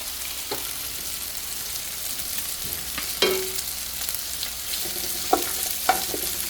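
Food sautéing in a pan for a special home-cooked meal, a steady close sizzle with a few sharp clinks and scrapes of stirring scattered through, no voices.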